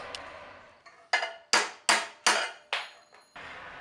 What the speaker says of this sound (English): Needle nose pliers works great at holding your torsion pins while you hit them into your